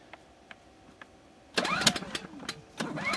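A Generac iX2000 portable generator's small engine cranks and catches with the choke set midway, a loud broadband burst starting partway through after faint ticking, sputtering unevenly and stumbling briefly before picking up again.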